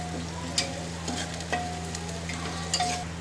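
Chopped onion and green chili frying in mustard oil inside a pressure cooker, a steady moderate sizzle broken by several light spoon scrapes and taps against the metal.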